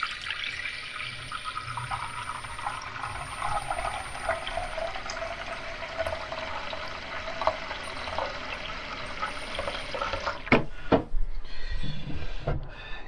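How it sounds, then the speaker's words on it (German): Water runs into a cooking pot for boiling dumplings at an overnight camp under a bridge, a steady close trickling stream for about ten seconds, then a few knocks and handling noises. "Und jetzt werde ich hier auf meinen Topf Wasser reinmachen."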